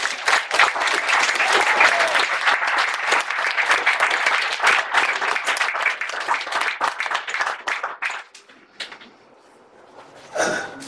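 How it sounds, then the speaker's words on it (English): Loud, dense applause from a crowd at a memorial gathering celebrating a woman's life, sustained for about eight seconds before thinning to scattered claps, a brief lull, and a short final burst. "Give him a round of applause"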